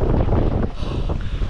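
Strong offshore storm wind buffets the microphone on a fishing boat at sea, a loud continuous rumbling roar with gusty surges and no voices.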